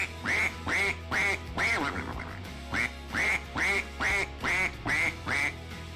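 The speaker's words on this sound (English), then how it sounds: "Thank you for playing Duck for 10 bits, Cecil" A duck quack sound alert plays on a live stream, giving about ten quick, loud, evenly spaced quacks in two bursts with a short pause between them.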